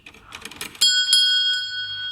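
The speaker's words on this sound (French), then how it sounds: "on a même la cloche de sacristie ici que je vais vous faire sonner" A small sacristy bell in the church of Saint-Michel in Wisches is pulled, first giving scattered rattles, then ringing with a bright, sustained metallic tone that is struck again and slowly fades.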